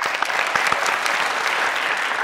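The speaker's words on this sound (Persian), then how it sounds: "تشویق کنین تیم محمدی یک را هم" An audience claps for a team at a quiz game show, a dense, steady burst of applause with a few sharper claps near the start, heard alone and up close.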